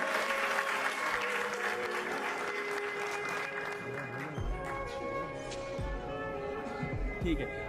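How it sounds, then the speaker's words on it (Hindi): An audience at a mushaira poetry event applauds loudly and steadily, sustained clapping filling the hall throughout with a crowd murmur underneath. "जोरदार तालियों से एक बार बुलाइए तो आएंगे"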